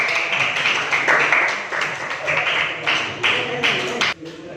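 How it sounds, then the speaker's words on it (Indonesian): Students in a classroom clapping for a presenting group, uneven bursts of hand claps that swell and dip before cutting off near the end. "Tepuk tangan buat kelompok."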